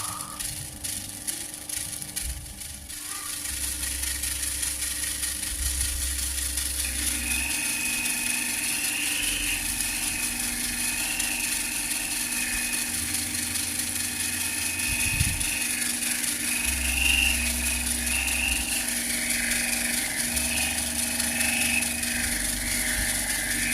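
Kalimaya opal gemstone being ground and smoothed on a motorized wheel, producing a steady high whine with a low droning hum that runs continuously and close, with no talking.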